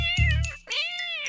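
Cartoon cats yowling at each other, a short heated exchange of drawn-out meows and caterwauls, loud and close with no talking over it.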